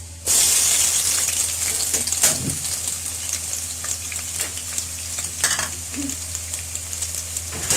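A large onion hits hot oil in a pan and fries with a loud, steady sizzle, while a few clinks and scrapes of stirring punctuate it near the mic.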